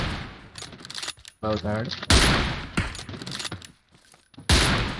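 Gunfire from the game PUBG, several sharp bursts and single shots scattered across the stretch, with someone talking briefly between them.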